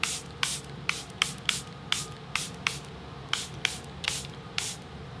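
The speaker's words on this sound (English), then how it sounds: "I'm using the Charlotte Tilbury Airbrush Flawless Setting Spray." Quick bursts of Charlotte Tilbury Airbrush Flawless Setting Spray misting from a pump bottle, about a dozen short hissing puffs in an uneven rhythm over a low steady hum.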